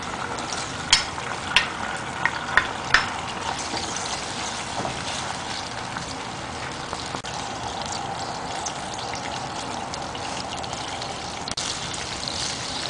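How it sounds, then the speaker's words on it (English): Ginger garlic fries in a simmering vinegar and oil mixture for pickle, giving a steady close sizzle with a few sharp pops and clicks early on and no voices. "The vinegar and oil mixture is now simmering. And now we'll add the ginger garlic first."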